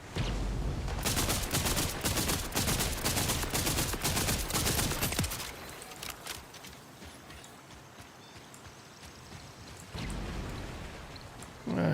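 Gunfire in the video game Borderlands 4: dense rapid bursts of shots crackle for about five seconds, then fade to a quieter rumble with scattered distant pops before a final burst.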